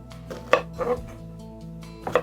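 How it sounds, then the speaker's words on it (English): An onion diced with a knife on a cutting board, a few separate, close chopping knocks spaced unevenly across a short moment. "we're just dicing it up a little bit"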